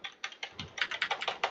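Rapid, uneven clatter of keys on a computer keyboard during a Fortnite session, a quick series of light clicks close to the microphone with no talking.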